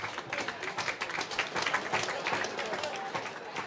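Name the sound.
audience applause for alphorn players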